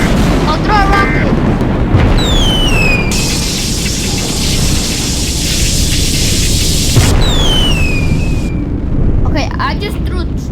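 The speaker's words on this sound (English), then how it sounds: "Okay, I just threw 2 rockets at it." Rockets explode against a tornado in a storm-survival video game, heard as a sustained loud roar of blasts and rumbling wind, with whooshing streaks and broadband noise.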